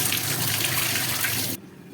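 Tap water running steadily into a sink over peeled raw plantain pieces, a broad rushing splash that stops abruptly near the end.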